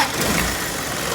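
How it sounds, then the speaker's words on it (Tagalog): A Toyota engine in a Wrangler-type jeep runs steadily, a loud close broadband rumble with an even idle and no talking. "Bali, ganyan po mandar yung makina niya mga boss"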